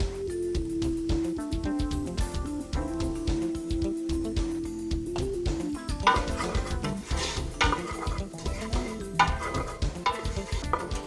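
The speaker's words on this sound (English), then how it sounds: "give it a nice quick stir" Sautéed onions and garlic being stirred in a soup pot for tortellini soup, with repeated scraping spoon strokes and clinks against the pot over a soft sizzle, close and alone without talk.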